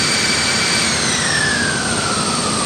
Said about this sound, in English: Okay, so that's the APU shutdown.